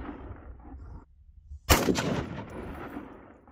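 A single loud gunshot fired outdoors, a sharp close crack after a moment of near silence, followed by a long rolling echo that fades slowly, with no voices.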